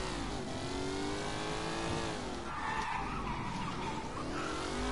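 A car in the video game Mafia 3 revs and drives hard, its engine drone broken by loud, sustained tire squeals as it skids through turns, with no talking.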